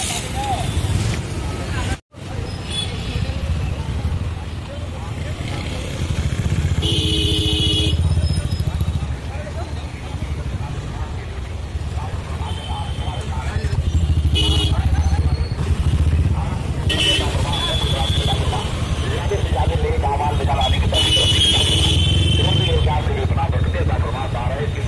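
A motorcycle rides through a busy market on Chand Raat before Eid, its engine running steadily close by under crowd chatter, honking and passing traffic, with someone talking over it.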